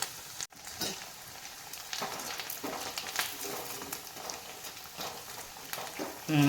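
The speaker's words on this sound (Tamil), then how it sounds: "ப்ரௌனாக வர்ற அளவுக்கு போச்சிக்கிறோம்" Snacks deep-fry in hot oil until brown, giving a steady crackling sizzle with irregular pops and a brief sharp clatter near the start, then a louder burst at the end.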